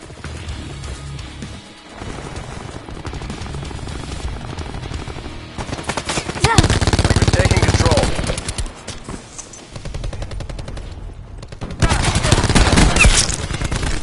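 Gunfire in a Black Ops Team Deathmatch game, loud rapid automatic bursts and crashing impacts in several waves, with short quieter gaps between them.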